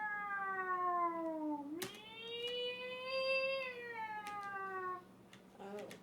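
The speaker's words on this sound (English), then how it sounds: "Loud wailing sound comes from downstairs." Ghostly wailing rises from downstairs in the King's Quest game, a long, quavering, siren-like moan that dips, jumps upward, then holds and slowly falls, with faint clicks.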